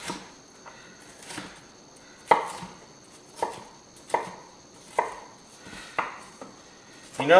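A kitchen knife chops cheesesteak egg roll filling on a cutting board in sharp, evenly spaced strokes, about one each second, close and fairly loud with no talking.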